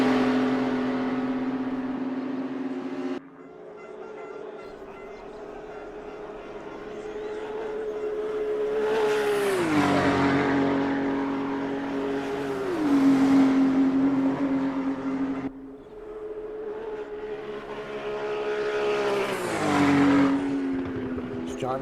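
A race car held at top speed on the Nürburgring during a PHSR Widowmaker Series round, its engine droning steadily with rising revs and shifts, under a commentator's voice.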